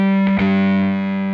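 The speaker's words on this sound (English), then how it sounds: "with the distortion anywhere above zero" Violin played through a Bunnel Heavy Metal distortion pedal, a single sustained buzzing note, heavily clipped and harmonically dense, loud and alone.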